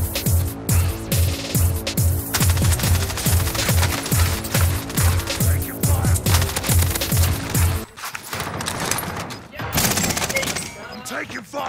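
Video game gunfire in a rapid, regular automatic burst lasting several seconds, then a short pause before scattered louder shots and thuds, all close and loud.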